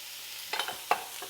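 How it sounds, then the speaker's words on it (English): Oil sizzles softly in a pan under a hiss while making chili, broken by a few quick scraping stirs. "Little sizzle."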